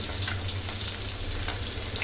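Koi fish frying in oil over medium heat, a dense steady sizzle close up with faint crackles, no talking.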